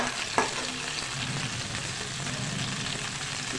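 Tomatoes frying in a pan for a spicy potato sabzi make a steady, dense sizzle with a brief stir clatter near the start, close and continuous throughout.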